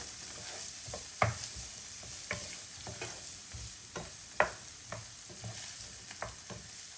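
Onions sizzle steadily in a pan, frying toward golden, while a utensil stirs, scraping and clattering against it at irregular intervals, close and fairly quiet.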